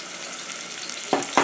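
Hamburger meat sizzles in a pan with a steady, close crackle, broken near the end by two quick scraping strokes as the meat is broken up.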